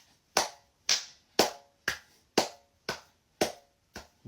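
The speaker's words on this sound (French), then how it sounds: "Il faut applaudir." Hand claps, eight sharp, evenly spaced slow claps about half a second apart, close and crisp with nothing else around them.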